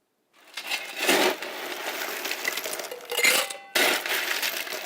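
A cocktail shaker is shaken hard at a culinary competition demo. It gives a loud, close, continuous rattling of ice that surges and dips, breaks off briefly and then resumes.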